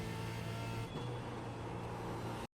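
Onboard engine of a V8 Supercar at Adelaide in fifth gear, a loud, steady droning roar with a brief dip in pitch partway through before cutting off abruptly.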